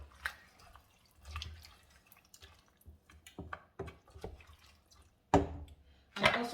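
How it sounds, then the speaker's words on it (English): Water from a tap or jug poured into a pot of cooking lentils, irregular splashing and dripping sounds close by, with two louder bursts of pouring near the end. "So I'm going to add about 2 cups of water to it now."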